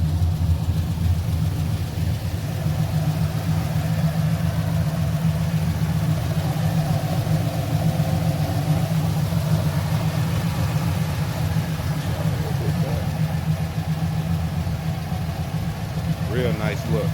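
A 1996 Impala SS with an LS engine swap idles in a steady low rumble, close and constant, while a person talks over it.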